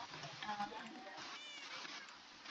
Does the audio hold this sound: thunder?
no